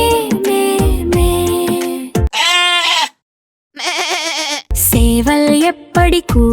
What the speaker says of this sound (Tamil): ஆட்டுக்குட்டி எப்படி கத்தியது?